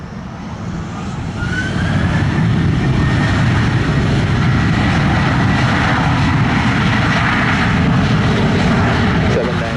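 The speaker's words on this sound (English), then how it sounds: "So clear for takeoff, Sunwing 769." Airliner taking off from the runway at Sangster airport in Montego Bay, Jamaica, a loud, close jet roar that swells within the first couple of seconds and then holds steady and powerful.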